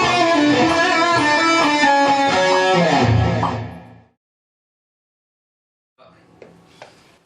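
Distorted electric guitar plays the first part of a solo for about four seconds and then stops, leaving silence followed by a few faint, soft notes near the end.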